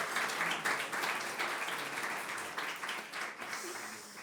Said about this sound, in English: A round of applause for both of our awardees.